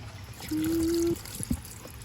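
Seasoning liquid trickles and pours briefly into pickled vegetables, followed by a few soft drips and clinks, close by and otherwise quiet.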